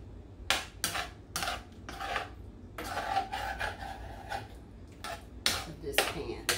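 A utensil scrapes stuck meat pieces off the bottom of an old cooking pan, in several separate rasping strokes of a second or so each, close by.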